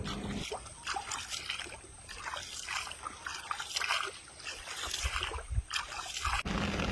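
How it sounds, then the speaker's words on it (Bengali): Light drizzle falls around a small dinghy boat on water in the Sundarbans, a faint, steady patter and trickle with occasional soft splashes, no talk. "টিপটিপ বৃষ্টি পড়তে শুরু করেছে"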